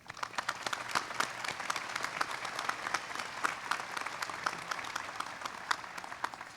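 Steady, moderately distant applause from a commencement ceremony audience honoring board of trustees members, a dense even patter of many hands clapping continuously throughout.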